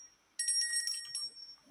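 A short, odd electronic doorbell chime in a video game rings once with a bright metallic tone, followed by a sharp click at the end.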